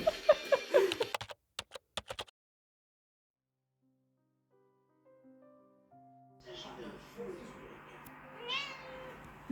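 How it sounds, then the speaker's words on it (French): A pet cat named Bactérie gives a few short meows at the start, then near silence, followed later by faint keyboard-like tapping and a thin tonal sound. "j'ai pu filmer le chat de mon frère qui s'appelle Bactérie"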